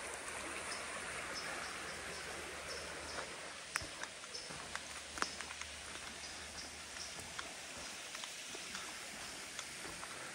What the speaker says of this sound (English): There's a couple springs that are actually feeding the actual creek itself.